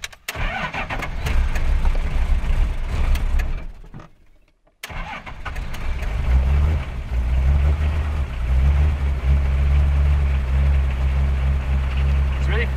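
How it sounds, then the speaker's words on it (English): A Toyota HJ47 Troopy on a cold morning cranks briefly, then catches and idles roughly after a short pause, its engine rumbling loud and close with revs rising as a voice talks over it. "It's a really fine line between revving it up just to get it going and not revving it too much to blow the rings out."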